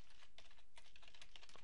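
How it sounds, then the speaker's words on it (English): Quick, uneven typing on a computer keyboard, a steady run of light close key clicks with no voices. "So I'll type in some information here"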